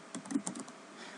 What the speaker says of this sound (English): we're going to type in here PowerShell.exe